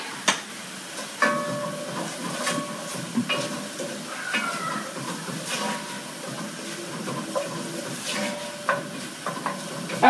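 A chopped white onion sweats in a hot pan for chicken fessenjan, giving a soft continuous sizzle with occasional clinks and scraping from stirring.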